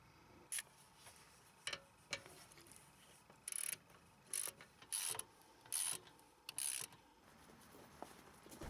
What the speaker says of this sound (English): And tighten them with a 13mm wrench or socket.